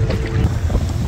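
A fishing boat's motor drones steadily as it speeds up on open, windy water, a loud low rumble with wind buffeting the microphone, and no voices.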